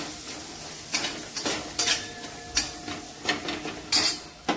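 Chopped ridge gourd is sautéed in a spiced tempering in a pan, with a low sizzle under irregular stirring scrapes and clinks of a metal spoon against the vessel.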